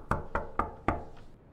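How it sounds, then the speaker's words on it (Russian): Four evenly spaced knocks on a door inside a horror video game, sharp and close, followed by a faint fifth tap and quiet room tone. "Хозяева? Я постучался, но никто не ответил."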